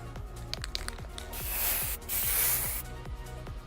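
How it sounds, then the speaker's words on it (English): Spray paint hisses in two long bursts while a cute little pink fish is sprayed in the Love and Deepspace video game, between short clicking game effects. "I lazily spray a cute little pink fish"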